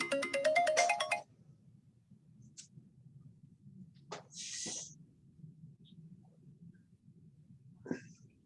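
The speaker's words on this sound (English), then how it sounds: "Nice ringtone. Yeah, rings a long time" An iPad running iOS 15 plays its ringtone, a bright tonal melody lasting about a second, followed by a quiet room with scattered faint clicks and short noises.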